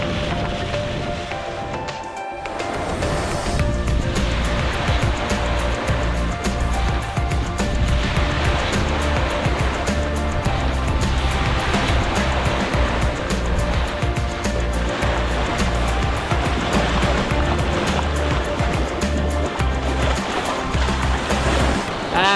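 A sailboat surges fast through ocean swell in the Mozambique Channel, running downwind on the waves; a steady, loud roar of rushing water and wind fills the whole stretch after a brief quieter start.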